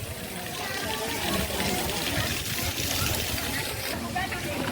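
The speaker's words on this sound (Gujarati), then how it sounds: "ફુવારા પડે મસ્ત" Fountain water splashing steadily at a Swaminarayan temple, a constant dense hiss and patter that carries through the whole stretch without pause, with voices faintly mixed in.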